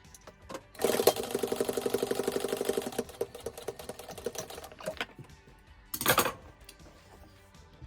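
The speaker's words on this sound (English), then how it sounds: "we're going to sew this at 1/4 inch" A sewing machine stitches a quarter-inch seam in a canvas pencil case, running in a steady close whir for about two seconds, slowing, then a short second burst amid light handling noise.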